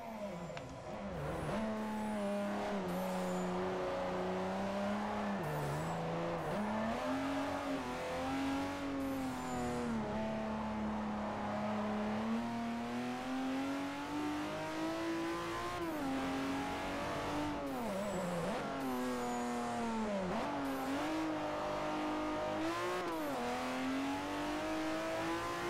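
BMW M3 engine in Forza 4, revving steadily and rising and falling through gear changes as the car drives, a continuous loud engine drone with no talk.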